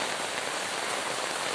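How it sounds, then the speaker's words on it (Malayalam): Heavy rain pours steadily over open paddy fields, a dense, continuous hiss that stays loud and even throughout with no voices. "പാടത്ത് മൊത്തം നല്ല മഴയാട്ടാ."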